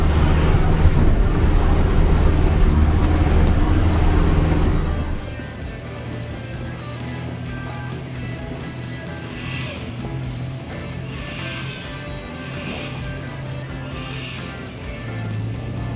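4WD vehicles grind and rumble over a rocky track at Tallarook, a loud heavy drone easing after a few seconds into a steadier low engine hum with wind buffeting the microphone.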